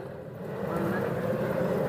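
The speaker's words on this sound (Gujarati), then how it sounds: "ચાલો મોટર કરી દીધી ચાલુ" An electric water pump motor runs in a field for irrigating wheat, giving a steady low rumbling hum that swells slightly as it settles, heard close with no clear talk.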